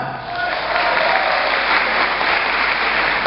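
An audience at a technopreneurship lecture breaks into applause, a dense, loud, sustained clapping that swells in the first half second and holds steady throughout.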